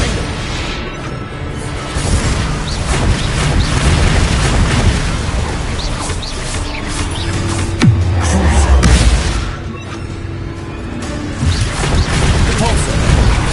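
Bombarda blasting spell going off in the Hogwarts video game: loud, dense booming bursts layered with crashing impacts and game effects, with a voice calling out spell names over the din.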